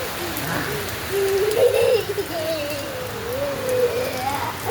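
Heavy morning rain falls steadily on a village, a constant hiss under a high whistled or sung tone and faint children's voices in the distance.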